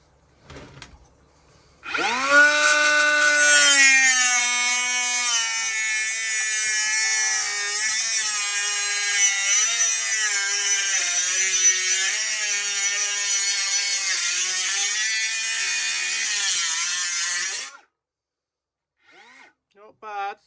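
A DMC 500 cut-off tool saws through aluminium box section: the blade winds up to a high whine, then drops into a strained, wavering grinding tone as the metal drags on it for about fifteen seconds before stopping.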